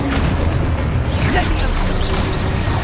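Spell explosions and booms in the Hogwarts Legacy video game, with a dense rumbling low end, creaking mechanical textures and scattered bursts running loud and continuous throughout.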